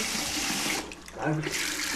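Hot water running from a bathroom tap in a brand new home, a close, steady rushing gush that briefly dips, with a voice speaking over it, then resumes.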